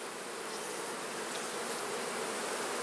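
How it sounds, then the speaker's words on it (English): Honeybees drone steadily in an open hive box during a colony split, a dense, continuous buzzing close up that fills the whole stretch without pause or talk. "look at all the bees in that box"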